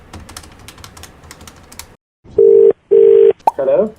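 Telephone call placed through a handset: keypad tones are dialed, then two long ringback tones sound loud and close, followed by a short burst of further phone signal after a brief silence.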